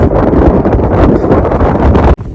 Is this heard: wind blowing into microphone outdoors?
yes